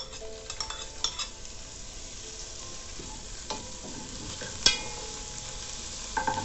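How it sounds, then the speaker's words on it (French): Finely chopped onions frying in about a tablespoon of oil in a pan over medium heat, a soft continuous sizzle broken by occasional utensil clinks and stirring knocks. "Je laisse dorer les oignons. Je continue à feu moyen."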